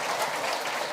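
A brief burst of steady audience applause at a memorial anniversary celebration, many hands clapping evenly, heard alone without voices.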